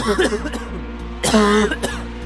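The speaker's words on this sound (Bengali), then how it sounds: "হঠাৎ কানে ভেসে এলো কার যেন খুব খুব কাশির শব্দ" Coughing used as a sound effect in a Bengali horror audio story about a hearse ambulance at midnight: several harsh, close coughs in quick succession over a low drone.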